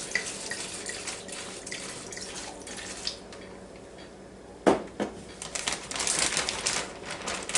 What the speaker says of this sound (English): it's red wine, and that's what we're using. So, dumping it in this bag here.